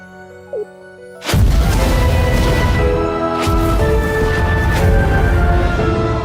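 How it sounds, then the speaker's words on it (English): A sudden loud blast erupts in the video game Cris Tales and gives way to sustained rumbling and crashing, with further booms layered over a dense, continuous roar. "Explosions everywhere."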